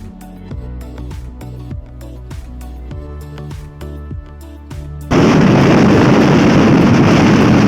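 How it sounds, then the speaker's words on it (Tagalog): Rapid irregular thumps give way to a loud, constant roar of wind buffeting the microphone, rushing and close, on the Apao Rolling Hills in Tineg, Abra. "Hangin."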